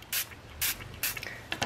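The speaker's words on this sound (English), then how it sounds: "Now I'm using my spritz bottle, and I'm going to spritz that" Three quick spritzes from a handheld spray bottle mist water onto paint, each a short close hissing burst, spaced evenly with quiet gaps between them.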